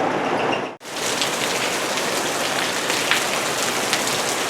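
Steady, loud rain falls on surfaces around a house, a dense continuous hiss with scattered drop patter, briefly cut by a short gap near the start and then running on without any voices.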